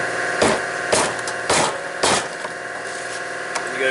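Four sharp metallic hammer strikes on a tool against a fuel pump locking ring of a 2005 Chevy Avalanche, at a steady pace over a constant mechanical hum in the background.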